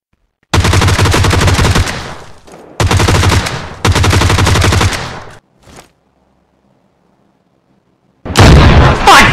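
PUBG Lite automatic gunfire comes as three loud, dense bursts of rapid shots, then a short silence before a final heavy burst begins.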